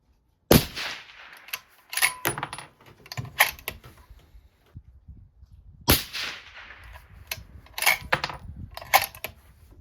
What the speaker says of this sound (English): Now let's see if the 140 grains can shoot too.